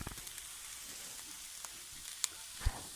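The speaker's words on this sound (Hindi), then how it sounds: "अब हमें इसको 1 मिनट के लिए सिर्फ भूनना है, सिर्फ 1 मिनट के लिए" Chicken and potato cutlet mixture with grated chili sizzles gently in a pan, a soft, steady hiss up close with a few small knocks and scrapes.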